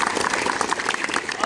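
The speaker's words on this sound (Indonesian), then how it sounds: "Aplaus buat kita semua." An audience at a school event at SMKN 2 Kaimana breaks into dense, loud applause, a continuous wash of clapping with a few voices mixed in.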